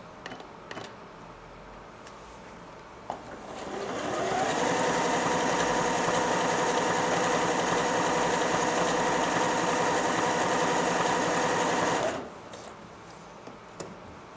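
A Janome 760 sewing machine runs an overcasting stitch in one steady, even whirring run of about eight seconds, close and clear, bracketed by small clicks and handling noises before and after.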